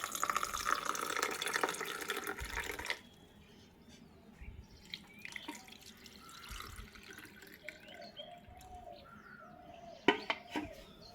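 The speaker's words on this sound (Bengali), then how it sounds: "এরপরে আমি ঢেলে নেব তরমুজের রসটা" Watermelon juice poured into a glass over mint leaves, a loud splashing stream for about three seconds, then quiet drips and small clinks alone.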